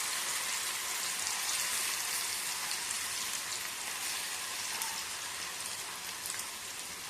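Marinated shark pieces frying in oil give a steady, dense sizzle, an even crackling hiss that holds at the same level throughout without pause.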